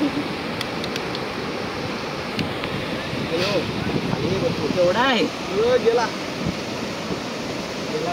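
Sea waves wash in on Rajodi Beach in a broad continuous surf roar mixed with wind, while people talk and call out nearby.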